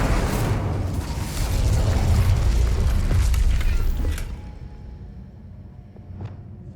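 A fire spell bursts in Hogwarts Legacy, a loud roaring whoosh that holds for several seconds and then fades into softer crackles and scattered small pops, with no talking.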